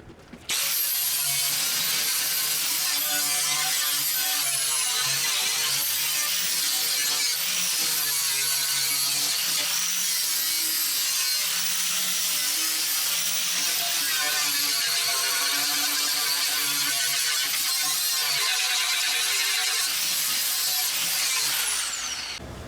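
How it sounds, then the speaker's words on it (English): Harsh, continuous high-pitched whine and grinding of a grinding wheel cutting through the steel doors of a BBQ grill, loud and close, with the pitch wavering as the cut proceeds. "I like to use grinding wheels to cut the doors open"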